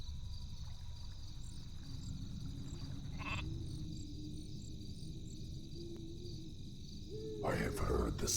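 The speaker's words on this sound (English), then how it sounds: "That's a sheep, all right." A sheep bleats in Warcraft 3, heard under steady ambient game sound with insect-like chirping, and a voice speaks over the scene.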